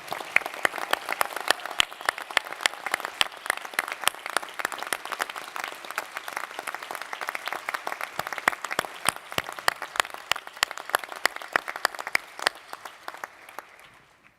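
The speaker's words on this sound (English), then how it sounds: "give a big round of applause for the people whose love and support got you here today" New lawyers and guests at a courtroom induction ceremony applaud, crisp individual claps standing out from a moderate crowd for a long stretch, gradually thinning and fading toward the end.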